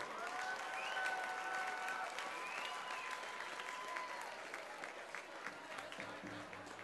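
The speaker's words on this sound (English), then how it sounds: "How about a big round of applause for our senior cheerleaders?" A high school football crowd applauds senior cheerleaders, steady broad clapping from a distant stands audience that holds evenly for several seconds.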